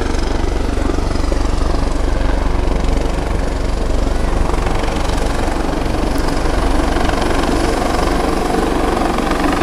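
A Super Puma helicopter landing in a countryside village, its loud, steady rotor thrum and engine roar filling the air continuously at close range, with wind buffeting the microphone.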